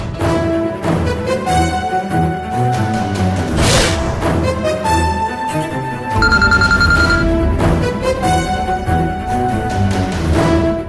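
A telephone rings loudly with an incoming call, its repeated bright trilling tones running steadily and close, layered over background music.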